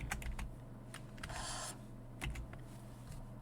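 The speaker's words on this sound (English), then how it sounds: "Why am I having problems typing?" Scattered key clicks from a computer keyboard, a few separate taps and one short burst, sound close and fairly soft over a low background hum.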